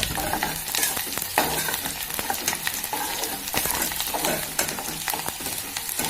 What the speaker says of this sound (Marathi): तर कांदा व्यवस्थित लाल होऊ द्यायचा आहे.